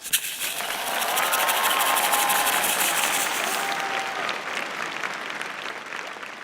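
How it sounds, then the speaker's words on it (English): A graduation audience applauds in a sustained, dense wash of clapping with some cheering and whistling mixed in, holding steady before easing slightly near the end. "Let's give them a round of applause."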